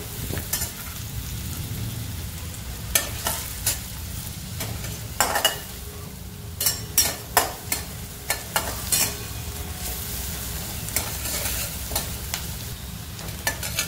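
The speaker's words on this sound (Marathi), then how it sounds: "चांगलं परतून घ्यायचं कांद्याला" Onion sautéing with salt in a pan, a continuous close sizzle broken by a run of sharp spatula scrapes and clacks that come faster in the middle.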